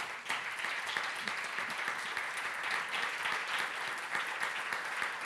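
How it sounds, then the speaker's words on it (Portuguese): Sustained audience applause fills a hall at a Portuguese testimonial session about elections, many hands clapping steadily and densely for several seconds with no voices on top. "Eu realmente acho que merece uma salva de palmas mais uma vez."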